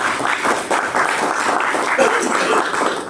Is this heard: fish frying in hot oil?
no